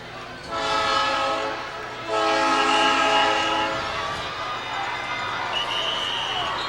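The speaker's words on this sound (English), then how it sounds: "where does that train come from? Where does it go?" Train rolling along nearby tracks beside a high school football field, its horn blaring in two long sustained blasts over the steady rumble of the cars, with crowd and stadium noise underneath.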